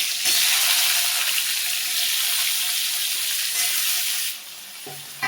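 Potatoes and plantains frying in oil with black cumin, a loud continuous sizzle that drops away near the end with a couple of light clinks.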